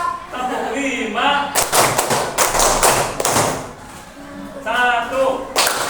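A classroom of children claps a counting rhythm led by their teacher, with chanted voices between dense bursts of many hands striking together, loud and close, in two main stretches.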